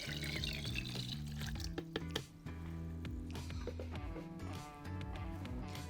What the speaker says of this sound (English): Next up, I'm gonna add in all of this water.